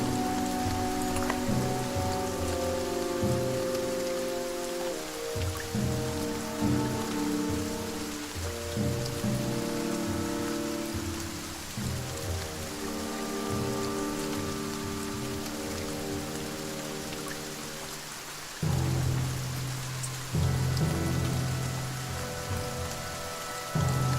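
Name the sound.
rain falling, from the video game The Banner Saga 2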